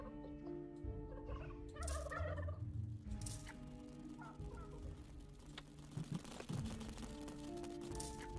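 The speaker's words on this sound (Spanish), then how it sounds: "Vale, lo de los pavos." Turkeys gobble in the video game Dungeons 3: a steady stream of loud, overlapping gobbles and clucks over a busy game soundscape, with no talk.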